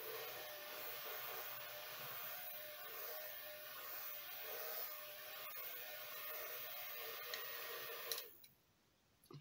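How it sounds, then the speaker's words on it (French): A small cheap electric fan from Action running indoors, giving a steady whirring hum that continues for most of the time before it cuts off abruptly near the end. "Je me suis pris un petit ventilateur de chez Action. Bon, ça fait un petit peu de bruit"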